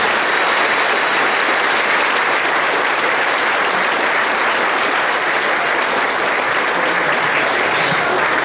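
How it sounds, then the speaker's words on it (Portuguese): A church congregation claps loudly and continuously, dense and steady like a wash of noise filling the hall throughout, with no voices standing out. "Vamos aplaudir Jesus bem forte"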